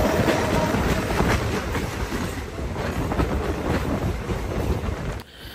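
The CirCar Express passenger train rolls along near Tambaram station, a loud, continuous rumble with wheel clatter filling the whole stretch before cutting off abruptly at the end, and no voices heard.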